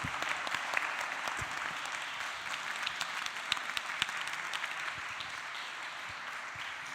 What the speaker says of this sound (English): Can we give it one more round of applause?